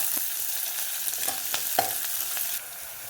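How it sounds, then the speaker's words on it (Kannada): A chopped onion fries in a pan for a green moong oggarane, giving a continuous soft sizzle with a few light stirring scrapes and ticks, close and even. "ಒಂದು ಆನಿಯನ್ ತಗೊಂಡಿದ್ದೇನೆ. ಸ್ವಲ್ಪ ಫ್ರೈ ಮಾಡ್ಕೊಳ್ಬೇಕು"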